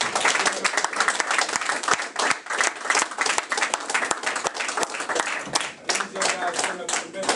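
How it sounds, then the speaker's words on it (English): An open mic audience claps and applauds steadily for several seconds, dense and loud, with a few voices mixed in. "I need y'all to get him one more round of applause"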